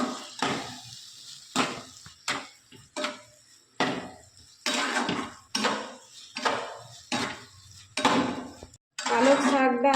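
A spoon stirs spinach paste around a pan, with about ten separate scraping, clinking strokes against the metal at a steady pace, close and fairly loud.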